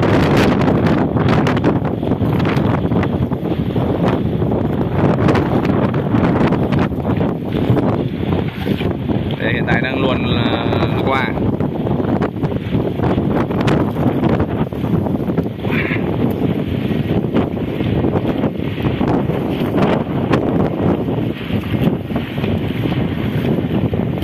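Strong wind roars steadily across a fish farm raft on open water for the whole stretch, a loud buffeting rush with gusts against the microphone, and faint higher tones briefly mixed in.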